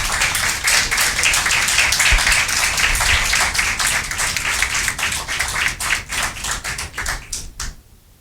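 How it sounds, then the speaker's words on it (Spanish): A church congregation claps together in a dense, steady patter of overlapping hand claps that stays loud throughout, then breaks off abruptly near the end. "Dele un aplauso al Señor."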